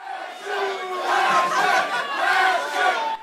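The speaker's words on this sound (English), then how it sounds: "and tremendous cheering" A crowd at the New York beard competition in 2011 roars with loud, sustained cheering and shouting that swells and dips over a few seconds.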